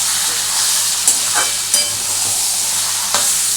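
Mutton pieces sizzle and hiss loudly in a hot pan while being stirred for mutton kosha, with a continuous close frying crackle broken by a few scraping stirs of the spoon.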